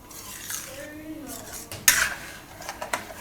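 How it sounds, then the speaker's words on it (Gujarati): A utensil stirs and scrapes a sweet gulkand barfi mixture in a pan on the stove, with a sharp metallic clink near the middle and softer scrapes after, while a voice speaks faintly. "આને આપણે વચ્ચે વચ્ચે હલાવતા રહીશું"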